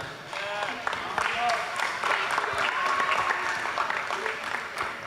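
Students at a high school assembly applaud with steady, dense clapping mixed with crowd noise, moderately distant, with voices talking underneath.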